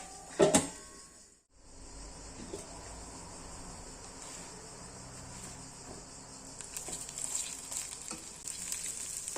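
An okra and egg omelette sizzles in a covered pan with a steady hiss that grows a little louder toward the end, after a clatter at the start as the lid goes on.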